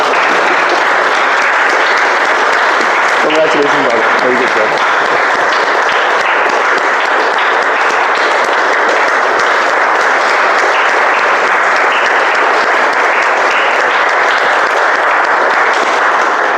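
Steady, loud applause from an audience at a Toastmasters impromptu speaking workshop fills the room for the whole stretch, with a brief spoken congratulation over it near the start.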